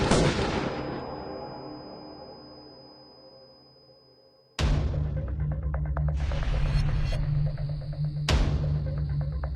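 Two sharp, loud gunshots crack several seconds apart, the first trailing off in a long fading echo and hum, the second cutting through a low, steady throbbing drone.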